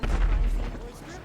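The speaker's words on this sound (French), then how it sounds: "Il y a quelque chose qui a explosé dehors." Somewhere outside in GTA 5, an explosion goes off as a short, muffled boom with a rumbling decay, heard under a speaking voice.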